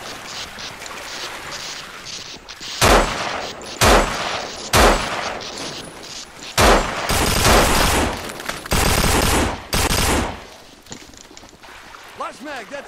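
Loud bursts of gunfire in a Half-Life 2 Deathmatch match, several separate volleys and sustained automatic fire, close and harsh, with a voice talking in between.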